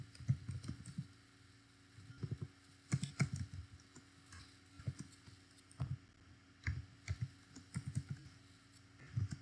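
Keystrokes on a computer keyboard, typed in short irregular bursts with pauses between, close and moderately quiet with no talking.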